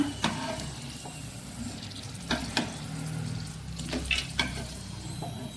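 A second batch of elephant foot yam fries in hot oil with a steady bubbling sizzle, broken by a few sharp crackles and light clinks of a utensil.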